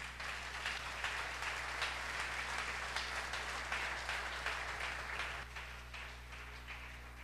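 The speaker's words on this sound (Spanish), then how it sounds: "Denle un aplauso al Rey" A church congregation claps for the King during a service, a faint, continuous patter of applause over a steady low electrical hum.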